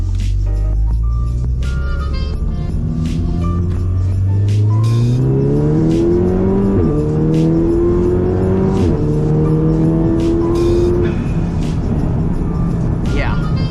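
MK7 VW Golf R accelerating hard onto a freeway, heard from inside the car: loud engine revs climbing through the gears with brief dips at each shift, continuous and close, with a voice talking over it.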